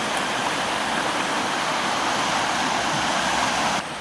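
Flooded South Boulder Creek rushing in a steady, loud, broadband roar of churning water, continuous and close with no voices, easing slightly at the very end.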